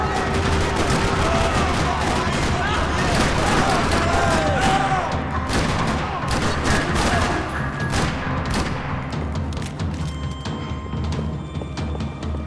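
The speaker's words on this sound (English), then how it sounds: "Another parking lot rattling with gunfire." Sustained gunfire and bursts of shooting rattle through a parking lot shootout in Max Payne 3 on Xbox Series X, dense and loud throughout with thuds and crashes mixed in.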